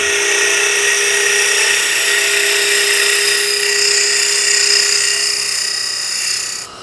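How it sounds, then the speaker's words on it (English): Sustained high-pitched whine of a drill boring into a turned wood box blank on a lathe, steady and loud for about six seconds before easing off at the end, with no talk. "I can drill it."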